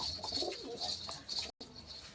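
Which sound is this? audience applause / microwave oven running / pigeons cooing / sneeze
pigeons cooing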